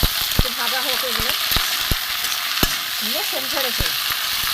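Cauliflower leaves sizzle in a pan with black cumin and garlic, a steady close-up frying hiss broken by sharp knocks of stirring against the pan, while a voice speaks briefly over it.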